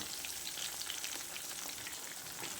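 Vanjaram (Anjali) fish pieces fry in a little oil with a steady, fine crackling sizzle that stays close and even throughout, with no voices.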